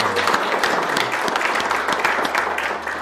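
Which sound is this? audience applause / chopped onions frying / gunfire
audience applause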